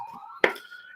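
A siren wails as a sustained, wavering tone that runs through the clip, with a sharp snap-like click near the middle and fading tones afterward.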